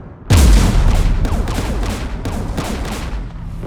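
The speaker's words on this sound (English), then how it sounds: "The Geth installed anti-aircraft guns beside the jamming tower." Geth anti-aircraft guns in the video game Mass Effect pound out a loud, rhythmic barrage of heavy repeated shots after a sharp opening blast, with no talk.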